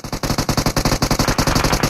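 Rapid, evenly spaced shots from the mobile battle-royale game PUBG Mobile, a loud and close string of about twenty reports in under two seconds with no pauses.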